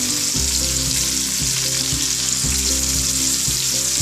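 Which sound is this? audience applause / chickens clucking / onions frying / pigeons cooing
onions frying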